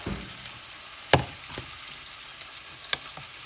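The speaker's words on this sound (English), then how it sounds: "another pan, which I'm heating up right now, because I'm going to add the potatoes, which I cut in little tiny pieces" Small diced potatoes frying in a hot pan, a faint steady sizzle broken by a few sharp clatters and stirring knocks.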